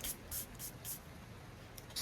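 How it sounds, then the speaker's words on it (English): Paris Corner Lactea Divina, an Arabian perfume, is sprayed onto a tester strip in several quick, soft hissing bursts in a quiet room. "Spray it on strip first and then see what it smells like."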